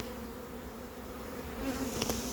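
Honeybees from a captured swarm descend into a hive, their dense, steady buzzing humming continuously at close range and swelling slightly louder toward the end.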